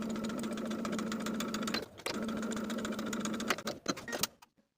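A sewing machine edge stitches folded single-fold bias tape in a quiet, steady hum of rapid needle strokes, pausing once briefly, then slowing with a few clicks before stopping.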